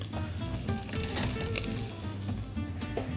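Osso buco meat being turned in a hot pan, sizzling steadily and loudly up close, with brief bursts of crackle as the pieces land; no one speaks.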